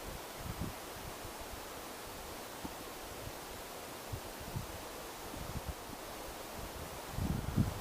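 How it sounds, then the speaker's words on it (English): Wind blows steadily across a forest campsite, a soft broadband rush with light rustling and occasional low buffets on the microphone, no talking. "it's definitely very windy."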